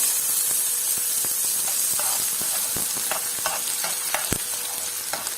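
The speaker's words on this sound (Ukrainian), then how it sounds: "Поки цибуля обсмажується" Onion sizzles loudly in hot oil while a utensil scrapes and taps against the pan in an irregular rhythm, close up with no talking.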